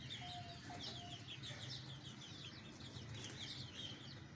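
A small flock of Golden Misri chickens, several hens with one rooster, clucks in quick, repeated bursts with occasional wing flapping, steady but faint and with no voices.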